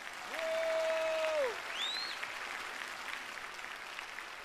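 A studio audience applauds in a Brazilian TV variety show tribute, broad clapping under bright synthetic musical swoops at the start, then continuing more softly to the end.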